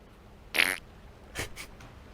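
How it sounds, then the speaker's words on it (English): Two short farts, a sharp loud burst followed a moment later by a weaker, breathier one, against quiet background. "You fart, McConnell."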